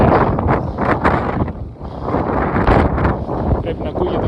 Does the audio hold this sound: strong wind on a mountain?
yes